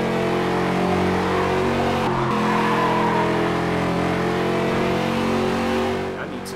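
Race cars in Gear Club Unlimited on Nintendo Switch roar with a steady, droning engine note, joined by bursts of tire skidding, loud and continuous before easing off at the end.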